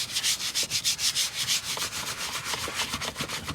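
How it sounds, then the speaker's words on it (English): A cleaning brush scrubs a leather armrest in a Toyota or Lexus car with quick, steady circular strokes, making a close, dry, rhythmic rubbing and swishing sound with no talking. "And starting a circular motion, clean everything off."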